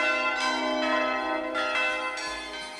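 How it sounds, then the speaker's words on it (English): Bells ring at the opening of the Christmas film A Christmas Story. The chimes are clear and resonant, struck in a slow sequence with long ringing tones, and fairly loud with no voices. "it's a Christmas movie, so we got bells ringing and Christmas music"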